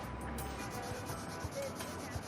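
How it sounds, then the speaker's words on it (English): Sandpaper rubbing a bicycle inner tube to roughen it before patching, a quiet steady scratchy rasping with a few light strokes, close and low in level with no talking. "I sanded it down, make it raw."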